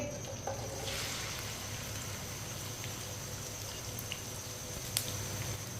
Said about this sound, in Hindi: भिंडी को 1 मिनट के लिए फ्राई कर लेंगे। चूल्हे की आंच को मैंने थोड़ा सा तेज़ रखा है।